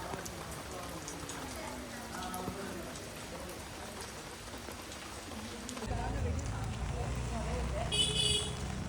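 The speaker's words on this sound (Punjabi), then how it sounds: "ਇਧਰ ਮੀਂਹ ਵੀ ਚਾਲੂ ਹੋ ਗਿਆ" Steady rain patters throughout, growing heavier and louder partway through, while people talk over it and a car horn toots briefly, at Raja Sumer Singh's fort in Etawah.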